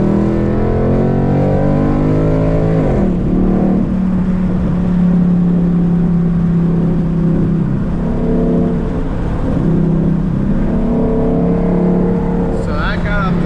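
A car with a new engine tune accelerates hard in second gear from about 40 to 80, its engine droning loud and continuous with rising and shifting pitch, heard from inside the cabin with brief talk over it.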